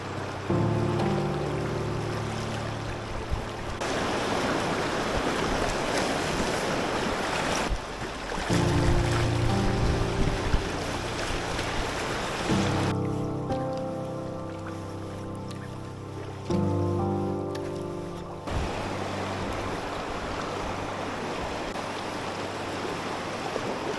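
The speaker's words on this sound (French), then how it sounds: "premier coup de pagaie" A canoe is paddled along the Loire river, with water rushing and splashing against the hull over a steady broadband wash, interrupted by shifting tonal hums and several abrupt changes in texture.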